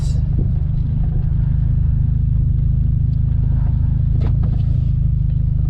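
A manual-transmission car engine hums as a low, steady drone while the driver downshifts, with a brief rise around the middle, heard from inside the cabin and alone without talk.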